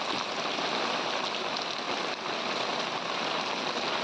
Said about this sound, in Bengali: দেখুন কেমন ভারী বৃষ্টি হচ্ছে, শব্দ শুনে আপনারা তো বুঝতেই পারছেন